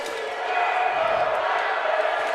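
Arena crowd at a Motor City Rockers hockey game against the Binghamton Black Bears chanting a player's name in a steady, sustained roar, with an announcer talking over it.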